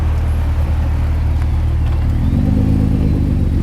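A pair of Nissan GT-R sports cars rumble along a Paris street, their engines loud and close in a steady low drone that deepens and swells toward the end as one revs.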